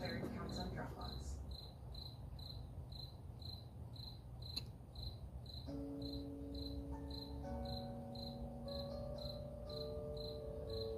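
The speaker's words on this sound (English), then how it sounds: "Can you hear my cricket?" A cricket chirps in steady, evenly spaced pulses throughout, loud and close, while soft tonal music plays underneath.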